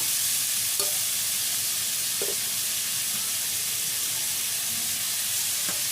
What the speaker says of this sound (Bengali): তো চিকেনটা একটু সময় দিয়ে ভাজবো, একটু ঢেকে দেবো আমি 2 মিনিটের জন্য।